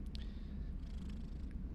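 A pet cat purrs close up in a soft, low, continuous rumble, quiet and unbroken across the moment, with faint higher rustles above it.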